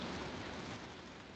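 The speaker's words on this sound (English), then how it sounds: "since a few 1 hour back it started raining" Rain falling in Kanpur during the cooler weather after a hot spell, a soft steady hiss at low level with no distinct drops, heard alone.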